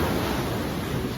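Ocean waves wash up a beach in a steady, broadband rush of surf, heard alone and fairly close for just over a second.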